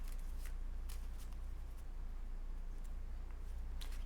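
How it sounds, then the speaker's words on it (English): A deck of playing cards is shuffled during a magic show, a quiet, steady riffle of flicking cards close by with a few sharper snaps, and no talking. "I will do one last shuffle"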